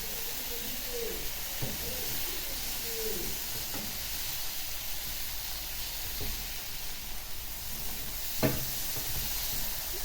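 Burger patties sizzling steadily in a hot pan on a home stove, with a continuous frying hiss throughout and a few spatula scrapes and soft knocks as the patties are flipped, no speech.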